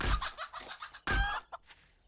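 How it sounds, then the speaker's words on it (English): A chicken in a survival video game clucks in a few short, close bursts, with a louder squawk near the middle and quieter clucks trailing after. "Chicken, chicken, chicken."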